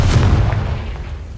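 A single deep, booming blast from a Confringo fire spell in Hogwarts Legacy, hitting loudly at the start and rumbling away over about a second.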